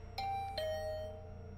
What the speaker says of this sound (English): The bell rang again.